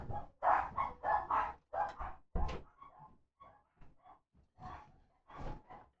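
Household dogs bark in a rapid run of loud, close yelps, then keep up quieter, scattered barks and whines, heard alone with no talking, as a postal carrier arrives at the house.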